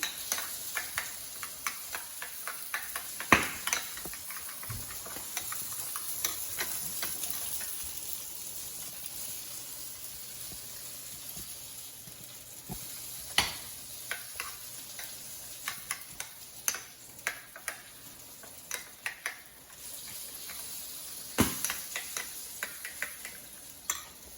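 A utensil scrapes and taps against a frying pan of pasta and shishito peppers in scattered clicks over a steady low sizzle, with sharper knocks every few seconds.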